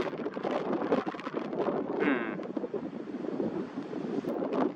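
Steady wind buffeting around an osprey nest at a skatepark, a continuous rushing roar close to the microphone with a brief higher whine partway through.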